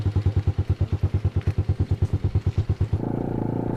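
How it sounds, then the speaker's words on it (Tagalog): A motorcycle engine revs with rapid, loud, evenly pulsing throbs on a rough trail ride after rain, then settles into a steadier lower rumble near the end. "Kahit pa paano nakakabirit na tong motor natin."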